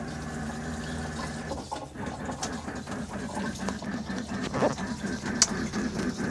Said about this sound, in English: And let's turn the water on.